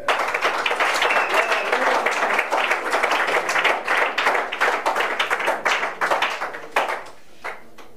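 A church congregation claps in praise, dense and loud for about seven seconds, then the clapping thins out and dies down.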